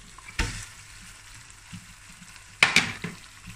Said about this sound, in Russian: И теперь начинаем обжаривать мясо.